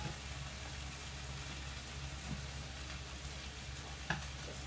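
Chicken sizzles steadily in a pan for oregano and thyme chicken, a constant low frying hiss with a faint clink near the end, no voices.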